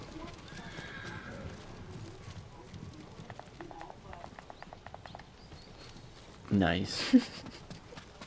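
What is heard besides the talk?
horse galloping in video game Ghost of Tsushima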